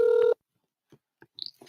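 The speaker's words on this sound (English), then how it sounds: "It's ringing." A telephone rings once in a single loud electronic burst at the start, then the line goes quiet except for a few faint clicks and small noises.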